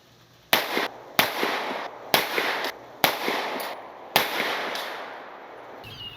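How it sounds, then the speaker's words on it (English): A Fowler Industries Vanta 9 pistol fires five sharp, loud 124-grain rounds at a 25-yard target, evenly spaced about a second apart. Each shot rings out briefly before the next, with no voices. "we have a 5-round group fired after the final drop test at the same zero distance, 25 yards, on the same target, using 124 grain gold dot"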